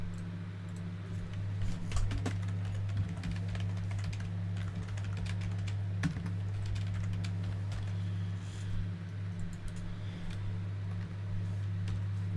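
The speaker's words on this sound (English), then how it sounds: "Need to stop fucking typing with capitals for every word" Steady keyboard typing, a dense run of light clicks and taps carrying on through the whole stretch over a low constant hum, like a room of people working at computers.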